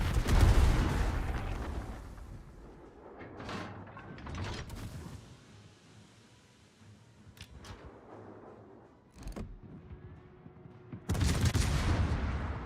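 Naval gun salvos from warships in World of Warships, heavy booming blasts at the start and again near the end, with quieter mechanical clanks and distant rumbling between.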